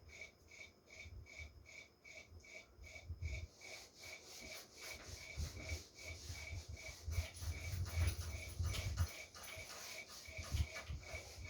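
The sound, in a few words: rubbing out a drawn diagram on a board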